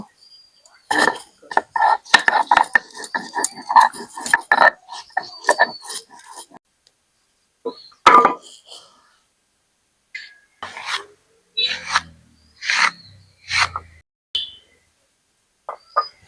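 Ginger and cumin being ground on a grinding stone while cooking duck curry: repeated rough rasping strokes in bursts, close and fairly loud, with pauses between runs.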